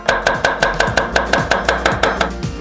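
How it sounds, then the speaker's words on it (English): Green onions chopped with a knife on a cutting board: about fourteen loud, close, evenly spaced chops in a quick steady rhythm, alone without talk. "Finally, chop some green onions."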